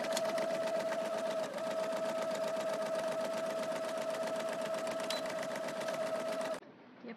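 A sewing machine stitches a jacket lining for a Blythe doll stadium jacket, its steady, close whirring running unbroken for several seconds before cutting off abruptly near the end.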